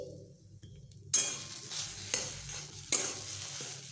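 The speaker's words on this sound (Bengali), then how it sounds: "আলুর সঙ্গে কাঁচা লঙ্কা, আদা, কালো জিরে সব মিশিয়ে ভালোভাবে একটু ভেজে নেব" Potatoes frying in a pan with green chili, ginger and nigella seeds, a continuous sizzle broken by three sharp scrapes and clinks of a spatula stirring against the pan.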